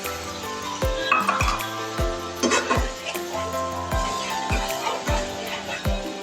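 A spiced yogurt paste for shahi paneer being stirred in a pan over low flame, with a spoon clinking against the pan in a steady rhythm of about a dozen close taps.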